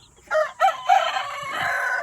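A rooster crows nearby, a loud drawn-out call rising and holding, with a few short clucks before it and faint farmyard noise.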